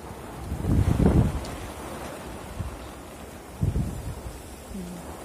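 Strong wind from a cyclone-driven rainstorm in Nellore district roars and gusts in several buffeting surges against the microphone, with no voices.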